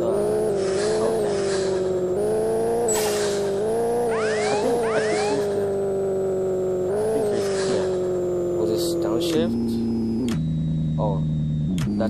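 A 1000HP Toyota Supra accelerates hard through several gear changes, its engine note climbing in pitch and dropping at each upshift, loud and close with rising whine and brief breaks between pulls.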